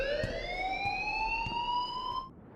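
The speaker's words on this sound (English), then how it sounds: "Leave Miss Caulfield alone, and please turn off that alarm since that's your job." An alarm rings in the video game Life is Strange, a loud steady electronic tone that holds for about two seconds and then cuts off abruptly, leaving faint background noise.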